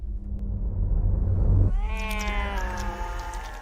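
In the horror film Sadako vs. Kayako, a low rumbling drone gives way to the ghost boy Toshio's drawn-out, strained human imitation of a cat's meow, loud and close, fading slowly.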